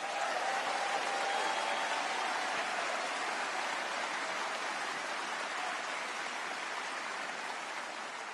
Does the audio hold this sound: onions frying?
no